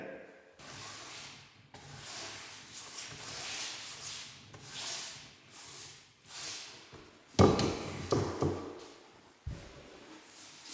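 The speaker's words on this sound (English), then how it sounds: "next step, just a quick wipe down with a damp cloth just to remove any excess dust" A damp cloth is wiped across a Victorian wooden floor being restored, giving soft repeated rubbing swishes in uneven strokes, a few louder scuffs near the end, close and fairly quiet.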